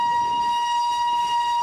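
A train whistle sounds as a steady sustained tone with a rumbling train beneath it, loud and continuous, with no talk.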